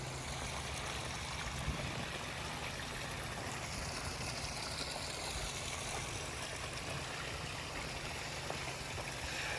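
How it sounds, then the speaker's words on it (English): Water runs steadily from a hose onto garden plants during a hot mid-August irrigation, a soft, continuous hiss and trickle at low level with no voices. "So I'm going to go ahead and water them."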